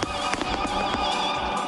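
Fireworks bursting at an international pyromusical competition, a steady dense crackle of pops and bangs with several sharper reports, loud and continuous throughout with no voices.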